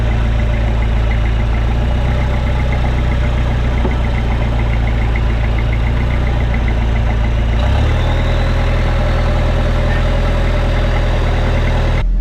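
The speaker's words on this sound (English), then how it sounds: "Now while the pump's still making some noise, the steering is immaculate." A Toyota VDJ79 Land Cruiser's power steering pump runs under a steady idling engine drone, loud and continuous with a shift partway through.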